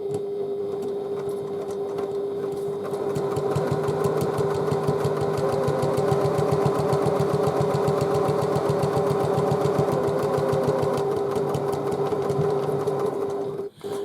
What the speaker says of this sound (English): I'm stitching vinyl with a normal straight stitch foot